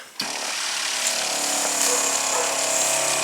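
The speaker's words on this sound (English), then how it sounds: "Going to turn on the pump." A softwash pump with a rubber hose and stainless steel fittings switches on abruptly and settles into a loud, steady mechanical whine that runs close by without pause.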